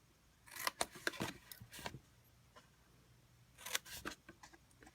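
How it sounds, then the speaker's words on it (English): Scissors snip through paper card stock while a treat holder is being made, a few crisp close cuts in two bursts with quiet pauses between. "So I'm going to just snip here"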